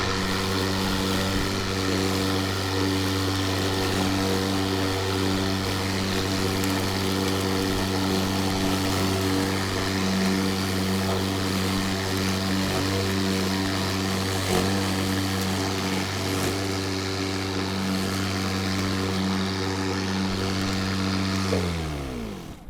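A battery-powered EGO DA1400 dethatcher runs on a lawn, giving a steady, loud motor whine with strong harmonic hum that holds without a break for about 22 seconds before cutting off at the end.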